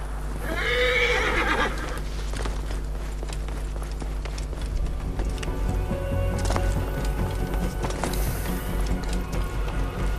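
A horse in the video game Assassin's Creed Origins gives a loud, close whinny at the start, then hooves clip-clop steadily along with game ambience and mechanical noises.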